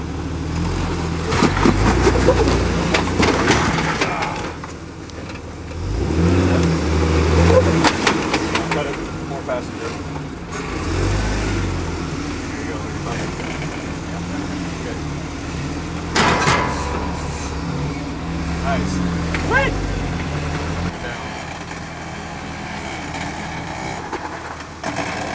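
Off-road vehicle engine crawling over rocks, a low rumbling motor that swells and eases in bursts, with people talking and calling out over it throughout.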